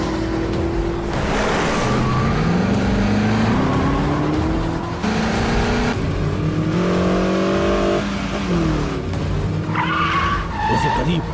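A fast car chase from a Hindi-dubbed horror film: a loud engine revving and shifting pitch, with tire squeals and skidding over a continuous roar, and voices heard at moments within the dense mix.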